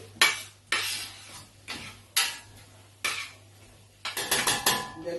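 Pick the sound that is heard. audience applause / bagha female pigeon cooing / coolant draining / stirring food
stirring food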